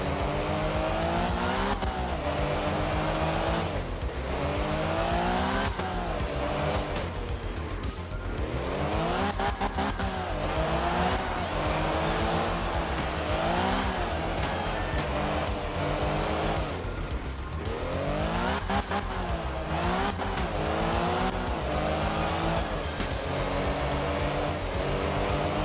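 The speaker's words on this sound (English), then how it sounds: "All the cars have got squeaky brakes." Rally cars in the racing game Art of Rally, including a Mini, with engines revving and swooping continuously while squeaky brakes and tire squeals cut in repeatedly, loud and close.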